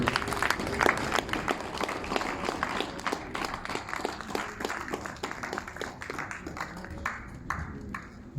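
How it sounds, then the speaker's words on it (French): A church congregation claps during a service, dense, sustained applause lasting several seconds with scattered sharper claps and a low murmur beneath. "Applaudissez-le"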